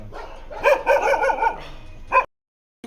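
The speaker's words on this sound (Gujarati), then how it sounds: "જો જો આ કૂતરા તો ક્યાં ગોલ ગોલ ફરે છે" Dogs in a circling pack outdoors in Thol let out several loud, close barks in quick succession, then a brief gap and one final sharp bark before silence.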